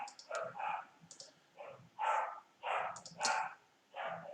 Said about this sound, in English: the dog's going ape shit in the other room